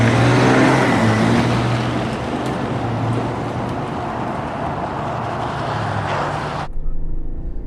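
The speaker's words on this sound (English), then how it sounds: "this has the 3-liter straight 6 diesel. Let's see what kind of pickup it has off the line." A GMC Sierra 1500 AT4 pickup with a 3.0-liter straight-six Duramax diesel and 10-speed automatic pulls away from a stop. Its loud, steady engine and road roar, heard from inside, cuts off abruptly near the end.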